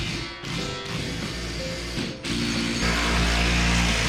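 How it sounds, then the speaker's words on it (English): A ratchet clicks close by in uneven runs while bolts are tightened to mount unistrut for a garage hoist, with short pauses between bursts. "I need to take every single bolt I have and mount them up so they are structurally sound"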